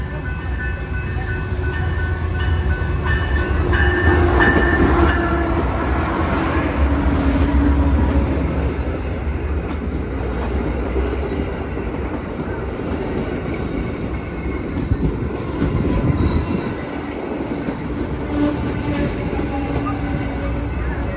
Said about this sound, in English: here comes our train number 98, the Silver Meteor, heading through to New York